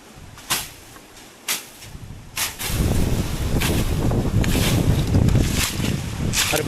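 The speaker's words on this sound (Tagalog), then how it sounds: "Walang tigil ang hangin." Constant wind sweeps across a banana plot as a storm approaches, a steady broadband roar that swells after a few sharp gusty bumps and then holds loud and unbroken to the end.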